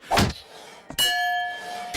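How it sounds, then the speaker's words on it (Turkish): A cartoon mallet thumps the button of a strongman game at a fair, followed by a bright bell ding that rings on and fades, then another short knock near the end. "Bu tokmakla bu düğmeye vuracaksınız. Zil çalarsa ödülü kazanırsınız."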